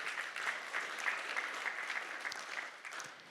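An audience at a global malaria eradication conference claps steadily and fairly faintly, a sustained wash of many hands that tapers off at the end.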